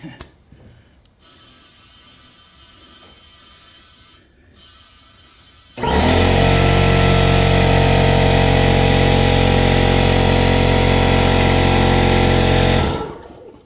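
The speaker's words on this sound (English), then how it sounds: "adjust the air compressor for a minute" An air compressor starts up loud and close, running as a steady, dense drone for about seven seconds before cutting off, with quieter mechanical background beforehand, during work on a John Deere 1023E tractor tire.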